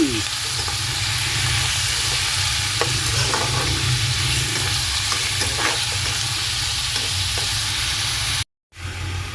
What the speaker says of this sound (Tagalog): Ang ating karne oh, mag-brown brown na.